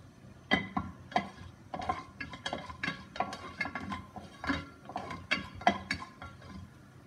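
Mustard, cumin and fenugreek seeds splutter in a little hot oil in a pan, giving a quick series of sharp pops and crackles, close and fairly quiet, with no talk.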